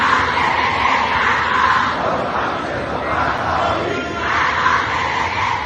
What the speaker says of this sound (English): Massive crowds have taken to the street in Tehran